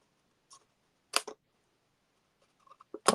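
Scissors snipping paper for a handmade card, a few crisp, close clicks and snips separated by quiet pauses, with no talking.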